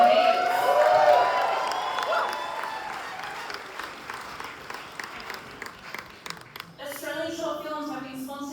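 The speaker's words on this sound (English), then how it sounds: "Huge round of applause for" An audience at the Dendy Awards ceremony for Australian short films applauds, loud at first and then fading into scattered clapping and crowd noise, with some voices underneath.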